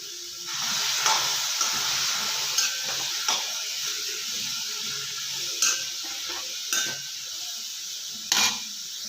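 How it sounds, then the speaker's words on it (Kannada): Chopped capsicum sizzling in a hot kadai, a steady loud hiss broken by about seven sharp scraping knocks of stirring at uneven intervals, no voices. "ಕಟ್ ಮಾಡಿಟ್ಕೊಂಡಿರೋ ಕ್ಯಾಪ್ಸಿಕಮ್ ಅಥವಾ ದಪ್ಪ ಮೆಣಸಿನ್ಕಾಯಿ ಹಾಕ್ಕೊಳ್ಳೋಣ. ಚೆನ್ನಾಗಿ ಹುರ್ಕೊಳ್ಳೋಣ."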